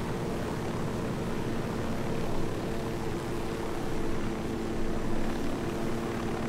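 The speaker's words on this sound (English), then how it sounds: "So find somewhere flat to land the chopper so I can't be seen." Helicopter in the Ghost Recon Wildlands video game, a steady rotor and engine drone heard close and continuous, with no talking.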